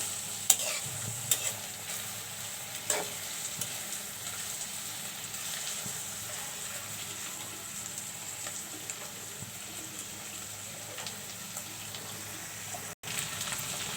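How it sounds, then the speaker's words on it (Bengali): Dried poa fish frying in mustard oil with onion and green chili, a steady low sizzle with occasional scrapes and stirring clicks from the pan, close and continuous throughout without any talking. "একটু একসঙ্গে সবগুলো ভেজে নেব। পেঁয়াজ, কাঁচামরিচ, সরষের তেল এবং পোয়া মাছের শুটকিগুলো দিয়ে দিলাম।"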